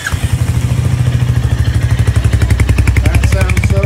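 Royal Enfield Hunter 350 motorcycle engine turning over on the starter and catching into a steady, loud, close thumping idle with a fast even pulse, running alone without talk.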